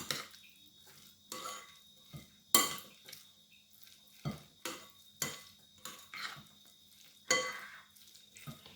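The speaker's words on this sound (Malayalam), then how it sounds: "ഇതെല്ലാം കൂടി ഒന്ന് മിക്സ് ചെയ്തെടുക്കാം" Ghee is stirred into a boondi laddu mixture in a pan: a spoon scrapes and knocks against the metal in repeated irregular strokes, close by and with no talking.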